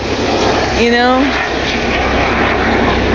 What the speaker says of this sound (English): what's up with these helicopters?